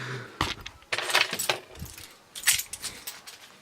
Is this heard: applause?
no